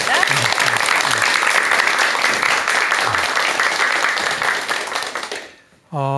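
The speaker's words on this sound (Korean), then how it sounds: "그럼 큰 박수와 함께 박사님의 강의 청해 듣도록 하겠습니다." A lecture audience applauds in welcome, a dense sustained wash of clapping for about five seconds that fades out before a voice begins speaking.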